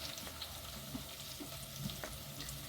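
Radish, carrot and drumstick pieces sautéing in a pan for sambar, giving a faint, steady sizzle with a few soft stirring scrapes and clinks, no talking.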